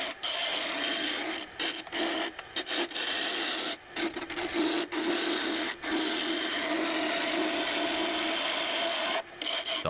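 A wood turning tool on a lathe takes the rough edges off a turned pointer wand, producing a continuous scraping, rasping hiss of cutting. It is broken by several brief gaps as the tool lifts away, with no voices.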